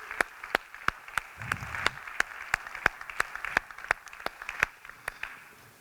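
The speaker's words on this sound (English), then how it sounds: "Let's give Holger a big applause for having us here today." Audience at a conference on sustainability in chemistry applauding, a thin, distant patter of claps with a few louder individual hand claps standing out in a steady rhythm over roughly six seconds.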